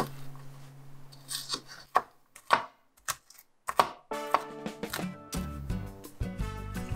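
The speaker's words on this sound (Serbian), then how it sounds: "Sada je potrebno da iseckam luk." An onion being chopped with a knife on a cutting board in a home kitchen, heard as a run of sharp, close knife strikes that start sparse and then quicken into a steady rhythmic chopping.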